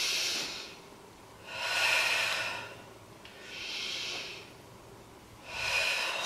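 Slow yoga breathing, with long airy breaths swelling and fading in a steady rhythm of about four cycles, close and soft, with no talking.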